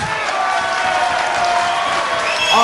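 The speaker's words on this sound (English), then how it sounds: "Ladies and gentlemen, a round of applause for both boxers." A boxing arena crowd at the end of a twelve-round fight breaks into a dense wash of clapping and cheering that swells slightly toward the end.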